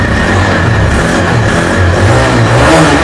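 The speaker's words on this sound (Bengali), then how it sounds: "ও কি আওয়াজ ইঞ্জিনের।" A motorcycle engine revs loudly and steadily right after being started, one of several bikes that include a Kawasaki Ninja 300, Yamaha MT 15 V2, Royal Enfield Classic 350 and Yamaha R15 V4; the close, continuous roar fills the whole stretch with no talk.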